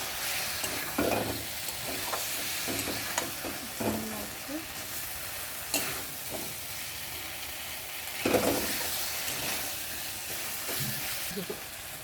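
Spice masala, with egg about to go in, is stirred and sautéed in a pan: a steady sizzle under intermittent scraping strokes of the spoon, close and moderately loud, with no talking.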